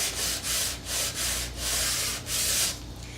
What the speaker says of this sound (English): Or 120, they will be filled with the back anyway, but just got to sand it anyway.